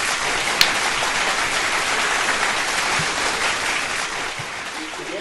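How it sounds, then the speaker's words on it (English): Audience in a hip-hop show venue claps in a steady, moderately loud patter, with one sharp louder clap near the start and faint voices underneath. "If we can't get a clap, can we get some claps?"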